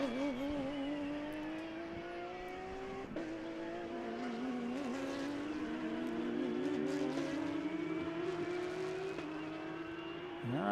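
Race car engine recorded from a live in-car camera during a vintage and modern endurance race at Sebring, loud and continuous, revving up through the gears with repeated shifts and a brief lift, no talk over it.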